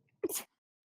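A single short, sharp sneeze bursts out close by against a quiet background, followed by a faint trailing sound.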